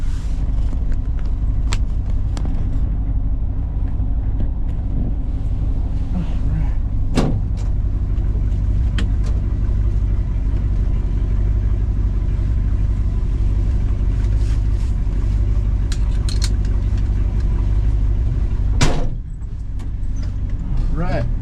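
Steady engine rumble from inside a moving 1967 Ford F100 pickup truck, with occasional rattles and clunks and a brief thump near the end.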